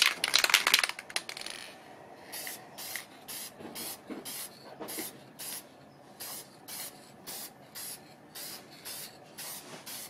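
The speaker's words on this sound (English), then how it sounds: "Okay, just sprayed that." Krylon workable fixatif from an aerosol can hisses in a long first burst, then in a steady train of short, evenly spaced sprays, close and fairly quiet, with no talking.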